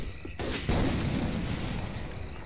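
Heavy, booming gunfire from a sniper rifle in the zombie shooter game Left 4 Dead 2, a sharp blast followed by a long rumbling tail, loud and close.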